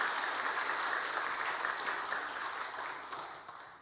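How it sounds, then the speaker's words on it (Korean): A church congregation at Sunday worship applauds the announcement of a couple's third child, a full, even roar of many hands clapping that gradually fades toward the end. "박수"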